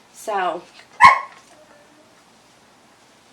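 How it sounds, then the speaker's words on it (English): A dog whining and yelping to be let in from outdoors in winter, one short whimpering cry followed by a sharper yip, fairly close, with a brief spoken word between. "sorry about the dog whining."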